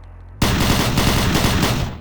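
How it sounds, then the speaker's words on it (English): Sustained automatic fire from the enemy-style machine gun in the Phobos mod for Doom 3, a rapid, loud, continuous burst of shots that kicks in abruptly and runs for nearly two seconds. "The machine gun sound has been changed to sound like the MG that the enemies use in the original game"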